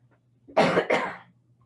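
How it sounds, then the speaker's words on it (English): A single close cough in two rough bursts, loud against a quiet low hum. "excuse me, I have to cough."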